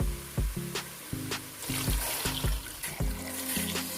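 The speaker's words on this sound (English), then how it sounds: "now I'll put water." Water pours into a pot of Nigerian okra soup with stockfish in a steady, gurgling stream, with a rhythmic sloshing that rises and falls close by.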